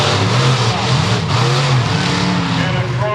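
Bigfoot monster trucks race at an Indianapolis, Indiana event, their engines a loud, steady, revving roar that fills the whole stretch, with a commentator's voice running over it.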